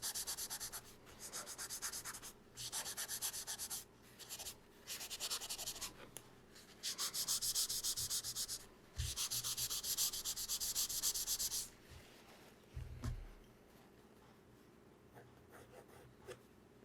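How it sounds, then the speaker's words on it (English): Pencil shading on paper is rubbed in with repeated bursts of dry, papery scrubbing, each lasting one to three seconds with short pauses between, close and quiet, with no talk. "now I'm gonna just rub the shading in"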